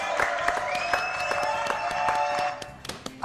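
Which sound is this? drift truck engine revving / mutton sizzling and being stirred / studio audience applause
studio audience applause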